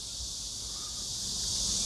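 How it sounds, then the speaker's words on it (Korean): Cicadas drone at night outside a plant grower's place, a steady, dense high-pitched buzzing that holds evenly throughout and swells slightly toward the end, with no voices. "매미 때문에 어우씨 장난 아니네"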